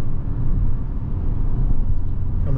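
A 2023 Hyundai Sonata N-Line accelerates down the road, giving a steady, loud low engine and road rumble from inside the cabin that holds even throughout.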